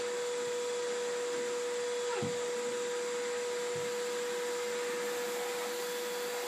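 A vacuum cleaner runs steadily at home while a child named Liam does the vacuuming, a continuous close whine with a steady hum, and two brief low bumps partway through.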